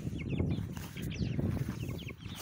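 A Cochin or Lakenvelder hen clucks in soft, irregular bursts close by, with scratchy rustling and faint chirps of chicks in the background.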